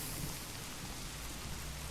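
Heavy rain with wind on a dark rainy night makes a dense, continuous roar of steady downpour, loud and unbroken throughout, with no voices.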